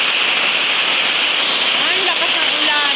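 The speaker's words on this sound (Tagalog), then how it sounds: "Ang lakas ng ulan." Heavy downpour during the first rain of an approaching storm, a loud, dense and unbroken hiss of rain close by that holds steady throughout, with a voice speaking faintly beneath it toward the end.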